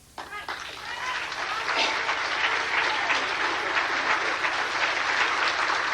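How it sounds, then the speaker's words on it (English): Audience at a lecture by Rabbi Meir Kahane breaking into applause, a loud sustained burst of clapping that builds quickly and holds steady. "You can applaud, certainly."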